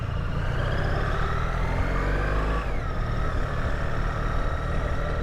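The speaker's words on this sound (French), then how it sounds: "Premier tour de roue sur la 1300 GS" A BMW R1300GS motorcycle sets off at a Brussels motorcycle show, its engine rumbling loud and close with a rising rev partway through.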